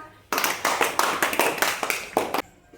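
Children in a class clap together in a quick burst of about eight claps, bright and close, with a short silence before and after.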